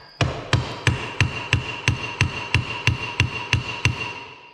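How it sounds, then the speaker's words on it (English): A dozen or so evenly spaced hammer strikes ring out close by, a steady metallic tapping rhythm with no voices. "You might just hammer these out then."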